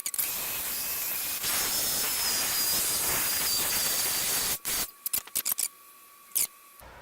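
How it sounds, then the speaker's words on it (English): A blow dryer roars with a steady airy hiss for several seconds, then cuts off into a few short, faint bursts and clicks. "It's a blow dryer."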